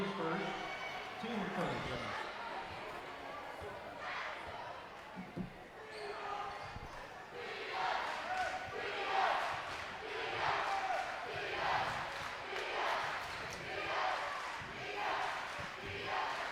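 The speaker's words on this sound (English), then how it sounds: "this Flippin crowd is making some noise here early" A crowd at a Flippin high school district basketball tournament game against Yellville makes noise in the gym, cheering and shouting in waves with a commentator talking over it.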